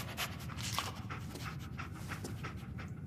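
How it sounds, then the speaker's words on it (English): Dogmeat, the dog companion in Fallout 4, panting in quick rhythmic breaths with a faint whimper, close by and steady throughout, no talking over it. "Dog meat. Get the scent, boy."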